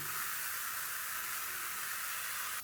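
Steady fizzing hiss of a carbonated drink poured into a Yeti tumbler outdoors, a continuous close bright crackle of bubbles with no talk.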